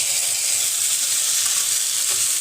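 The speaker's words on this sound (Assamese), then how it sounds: "এইখিনিও মই এতিয়া ফ্ৰেঞ্চ বিনখিনিৰ লগত একেলগে ভাজি লম" French beans, carrots and tomatoes frying together in a pan give a steady, soft sizzle with faint stirring, heard alone and close at moderate level.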